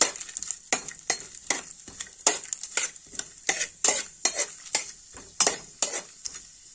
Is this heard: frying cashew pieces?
yes